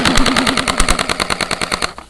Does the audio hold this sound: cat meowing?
no